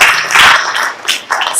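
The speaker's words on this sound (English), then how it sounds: "A round of applause for Clifford" An audience at a location intelligence system product launch claps for a speaker, with loud, dense applause that swells and dips across the short stretch.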